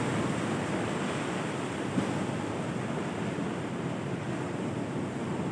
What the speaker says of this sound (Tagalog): Lakas ng alon dito.